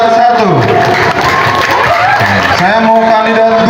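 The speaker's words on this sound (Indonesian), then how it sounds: "Boleh tepuk tangan untuk kandidat 1." Junior high students at SMPN 4 Ciamis clap and cheer for candidate 1 in a school event, a dense burst of applause that fills the whole clip with voices and crowd noise around it.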